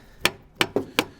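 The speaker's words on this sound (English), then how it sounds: "Gonna go with the old hammer screwdriver method." Hammer striking a screwdriver to punch it through an oil filter on a CJ-7 Jeep, four sharp metallic blows in an uneven rhythm, close and fairly loud with no talk.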